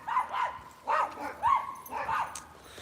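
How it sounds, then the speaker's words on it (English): A few dogs bark in short bursts, four or five sharp volleys spaced across a couple of seconds, slightly distant, with no one talking. "There's like 2 dogs that are like barking."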